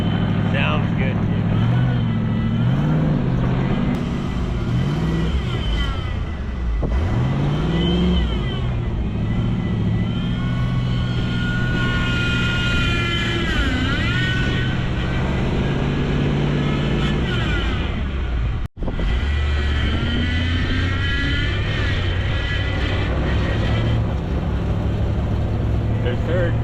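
An M715 Cherokee truck engine drones and revs while driving, with rising and falling pitch through gear changes and a brief cut near the end, loud and close, with talking over it.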